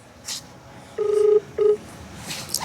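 A phone number is dialed on a telephone: two clear keypad tones, one longer and one short, near and fairly loud, amid faint background noise.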